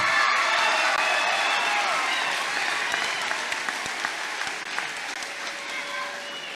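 Sustained audience applause, with faint cheering mixed in, for award recipients at an eighth-grade promotion ceremony. Many hands clap steadily and loudly, then slowly fade near the end.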